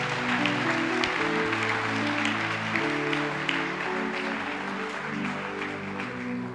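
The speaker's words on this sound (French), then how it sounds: "Acclame d'abord pour le Saint-Esprit." A church congregation clapping together, a steady, dense wash of applause heard at moderate volume throughout, with sustained keyboard or organ chords playing underneath.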